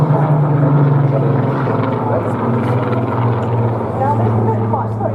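A Bronco propeller aircraft flies past at a seaside airshow, a continuous mid-distance engine drone with a low steady hum, heard under a commentator's voice.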